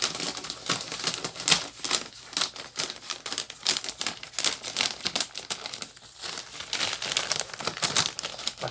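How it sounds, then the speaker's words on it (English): Paper edges trimmed all the way around with scissors, a steady run of close, crisp snips and crinkling cuts repeating at a quick, uneven rhythm with no talking. "So just trim off the edges like that, all the way around."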